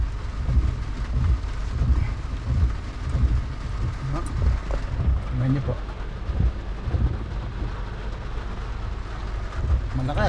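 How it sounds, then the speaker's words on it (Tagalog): Steady heavy rain roars continuously with a low rumbling undertone, with a voice faintly heard beneath the downpour. "Malakas pong ulan."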